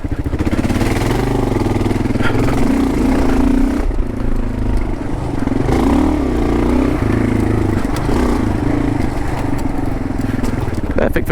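Kawasaki KLR adventure motorcycle ridden along a slippery single track trail, its engine droning loudly and continuously with rises and dips in revs, close to the microphone, with scraping and clatter mixed in.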